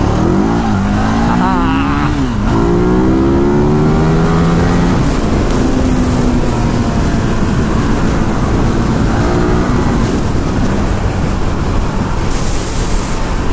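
Steady loud roar of a Buell V-twin motorcycle pulling hard at highway speed, engine note rising and shifting amid heavy wind rush throughout.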